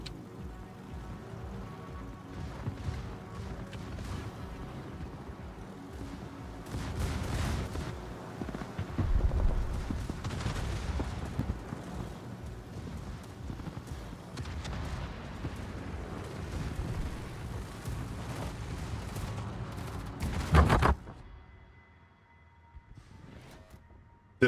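Heavy naval gun salvos from warships in World of Warships, a long series of deep rumbling booms over continuous battle noise, fairly distant and muffled, ending in one sharp blast before things go quiet.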